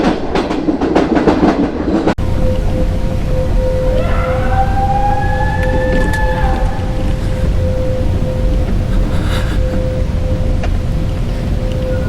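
A train rumbles past steadily with clickety-clack wheel noise and a sustained horn-like tone, loud and close throughout, used to open a horror story.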